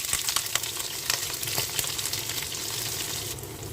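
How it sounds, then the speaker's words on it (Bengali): Onion, garlic and split green chilies fry in hot mustard oil in a pan, giving a soft, steady crackling sizzle with scattered pops throughout. "মরিচ পেঁয়াজ রসুন যখন এরকম ভাজা ভাজা হয়ে যাবে"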